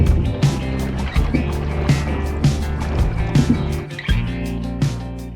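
A boat moving across the shallow waters of Nal Sarovar lake near Ahmedabad, where the water is only two to three feet deep. A steady hum runs throughout, with repeated splashy bursts roughly every second.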